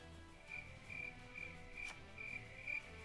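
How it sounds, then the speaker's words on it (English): Faint crickets chirp in short, evenly spaced bursts against a quiet background hum, played as a sound effect during a card game team match broadcast, with no voices. "It was crickets"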